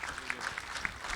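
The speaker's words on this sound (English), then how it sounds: "Let's give a round of applause to our panel," Scattered applause for a business panel at a Kansas City event, a brief, fairly faint patter of claps from the audience lasting about a second.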